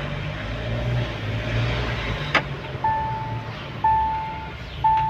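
A Mahindra Thar automatic's engine runs with a smooth, quiet, steady hum from inside the cabin, and a few short electronic chime tones sound in a regular sequence toward the end.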